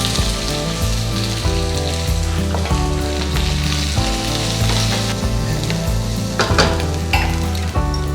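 Mustard seeds, dried red chillies, curry leaves and chopped big onions crackle and sizzle steadily in hot groundnut oil, with loud close frying noise, small pops and stirring scrapes throughout.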